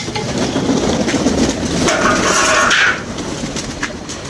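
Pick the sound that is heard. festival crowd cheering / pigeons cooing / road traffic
pigeons cooing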